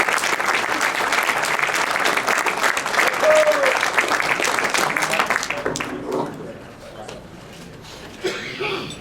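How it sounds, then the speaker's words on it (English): Audience applause fills a poker hall of fame induction ceremony, a loud, sustained clapping from a large crowd that fades out after several seconds, with a few coughs and a voice near the end. "How about a nice round of applause, please, for Mr. Brian Balsbaugh."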